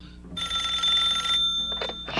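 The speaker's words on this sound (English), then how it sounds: "he calls the house and Goslin answers the phone" An old-style telephone bell rings in a house, one loud sustained ring followed by short bursts, with no talk over it.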